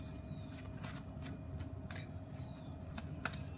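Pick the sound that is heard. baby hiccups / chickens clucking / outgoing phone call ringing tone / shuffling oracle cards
shuffling oracle cards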